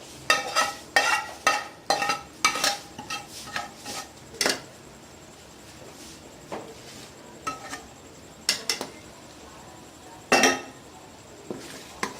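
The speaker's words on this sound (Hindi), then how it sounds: "अच्छी तरह मिक्स करेंगे" Chicken karahi being stirred with butter in a Lahori-style karahi pan: a utensil repeatedly scrapes and clinks against the metal, in quick bursts that slow to occasional knocks, with light sizzling underneath.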